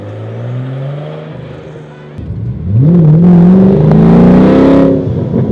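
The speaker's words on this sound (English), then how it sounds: "Oh, that turbo sounds good." A turbocharged R32 car engine revs up, pitch climbing as it accelerates with a whooshing turbo whine, loud and close, then easing off.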